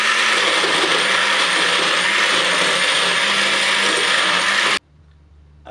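A blender whirs loudly and steadily while mixing carrot-chorizo soup, a dense grinding roar that cuts off abruptly near the end, leaving quiet room tone.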